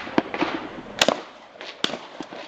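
Shotgun blasts at an outdoor clay pigeon shooting range, three or four sharp, loud reports spaced irregularly over a couple of seconds, each a sudden broadband crack with a short decay, and no talk between them.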